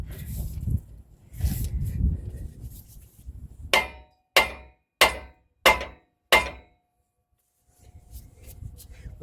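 A mini sledge hammer striking a ball joint on a 2000 Cadillac Escalade: five sharp metallic blows in an even rhythm, loud and close, after a stretch of shop noise.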